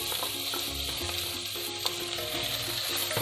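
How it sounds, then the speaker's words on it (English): Three strips of cut bacon fry in oil in a pan for carbonara, giving a steady close sizzle with scattered pops and crackles and a faint low hum underneath. "I have this bacon, 3 strips of bacon, and I cut it into this size, and now we're gonna fry this one first"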